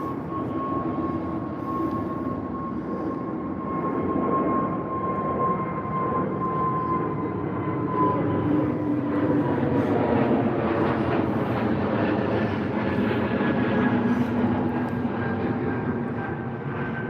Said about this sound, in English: It is Iberia's A320 heading off to Madrid.